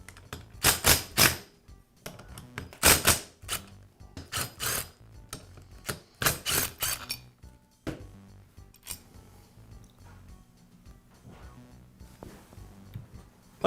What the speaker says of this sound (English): I'll go ahead and remove two of the screws first, and then slowly remove the other two